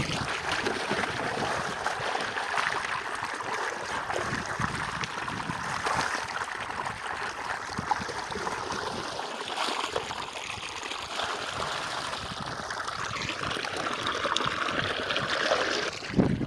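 A steady stream of water pours into a bucket in a village yard, a continuous splashing trickle with faint background voices.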